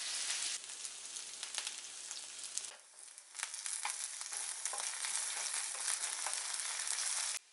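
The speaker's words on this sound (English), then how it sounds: "Today we will fry them up in the grapeseed oil. When the oil is hot, then you take your cactus and put it in the pan and fry it up." Strips of prickly pear cactus frying in hot grapeseed oil in a pan make a dense, bright, rain-like crackle that runs steadily for several seconds, dips briefly, then resumes until it cuts off, close and fairly loud.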